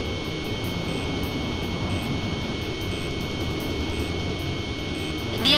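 Enemy jet aircraft roar steadily in Ace Combat 5, a dense, continuous engine rush with high whine, loud and unbroken throughout, with a slight swell at the very end.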